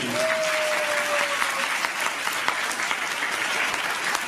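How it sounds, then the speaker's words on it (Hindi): Loud, steady applause from an audience at a short film launch event, a dense wash of clapping that fills the whole stretch without pause. "जोरदार तालियां हो जाएगी"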